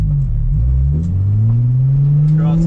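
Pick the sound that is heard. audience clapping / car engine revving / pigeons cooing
car engine revving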